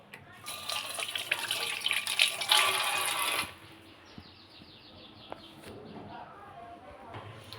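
Tap water runs loudly and steadily while a large silver carp is washed, then stops abruptly, leaving a quieter room with a chirping bird and faint background noise.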